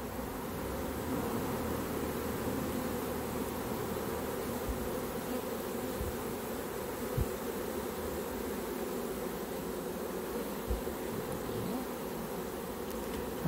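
Calm honey bees hum in a dense, steady drone at an open hive during inspection of a swarm colony, a close and even buzz with a few faint knocks.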